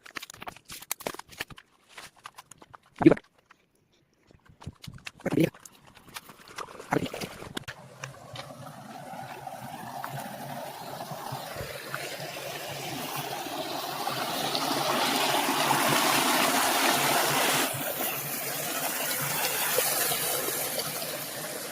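Irrigation water gushes through a pipe in a farm field. A few sharp knocks come first, then a steady rushing flow builds and grows louder, holding strong to the end with no voices.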